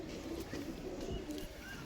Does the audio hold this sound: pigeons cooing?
yes